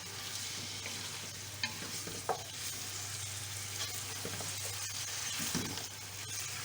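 Chicken pieces frying with ginger, garlic and green chillies for Sindhi biryani, a steady close sizzle with a few sharp stirring clinks and scrapes of a spoon against the pan, no voices.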